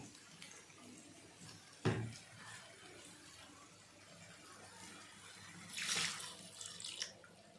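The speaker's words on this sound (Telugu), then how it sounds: "ఇప్పుడు మనం వాటర్ పోద్దాం" Water trickles and pours into a masala curry for masala dosa in a home kitchen, a faint, quiet stream with a sharp clank near the start and a brief louder splash later.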